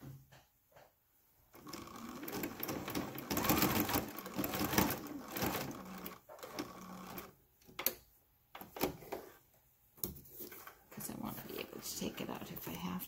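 A sewing machine set to a 5L stitch sews purple pants in close, loud rattling bursts of varying length separated by pauses, with a person talking intermittently.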